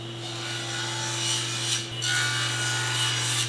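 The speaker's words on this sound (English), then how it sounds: "I'm going to shave off a few thousandths of an inch at the table saw" A table saw spins steadily with a constant motor hum while its blade shaves a few thousandths of an inch off an ebony bar, a brief scraping, rasping cut riding over the drone.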